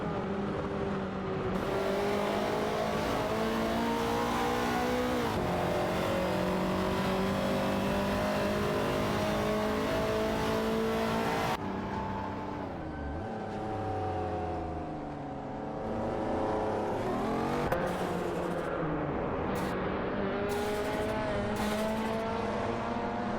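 Race cars, a Ferrari 308 GTS and a BMW Nosca C2, in a racing video game give a continuous loud engine drone. The revs climb, drop and climb again through gear changes, and occasional tire squeals cut in toward the end.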